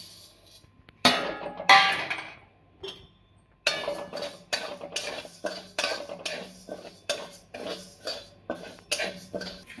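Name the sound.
dry roasting urad dal in a pan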